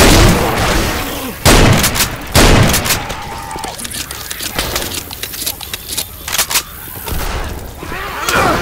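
Video game gunfire, repeated loud shots and booms in bursts, with people talking over the action.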